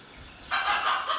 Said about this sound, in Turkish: Bakın şu horoza bakın.